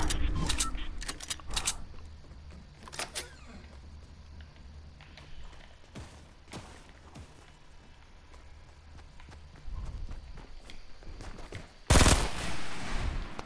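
Sporadic bursts of gunfire in Fortnite crack out between quieter stretches, with a loud close volley near the end.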